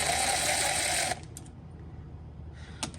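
Power driver whirring steadily as it backs out hinge screws on a Thermador/KitchenAid refrigerator door, a loud continuous buzz for about a second, then quieter clicks and a brief mechanical tick near the end.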